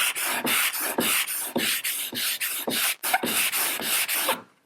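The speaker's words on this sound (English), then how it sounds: "I'm going to hold the scraper at an angle so that I'm using more surface area on the stone and sharpening my scraper at the same time" A steel card scraper is rubbed back and forth across a sharpening stone, each steady stroke a rasping scrape, about a dozen passes in a close, even rhythm with no talking.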